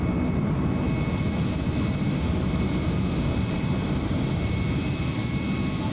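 Airliner engines in Microsoft Flight Simulator, climbing just after takeoff from Newark: a steady, loud, continuous roar with a whine layered on top that holds level throughout, with no talking.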